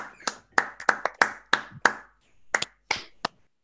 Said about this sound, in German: Applaus für alle.